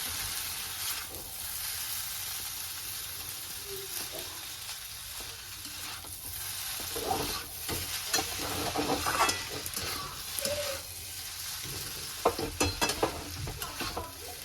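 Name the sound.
chow mein frying in a pan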